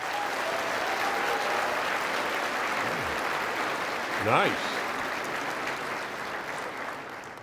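A seated audience at a talk breaks into steady, dense clapping that runs the whole time. One voice speaks briefly over the applause.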